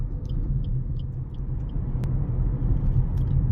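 Suzuki Ciaz 1.5 GL sedan climbing a hill at full throttle after a downshift, its engine giving a steady, low, strained droning rumble heard from inside the cabin, with faint clicks over it.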